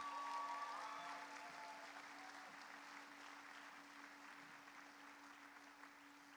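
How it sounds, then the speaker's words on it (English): Scattered audience applause for scholarship recipients at a high school senior awards night, steady and fairly faint throughout, with a low steady hum underneath and no talking. "Big round of applause for those scholarship recipients."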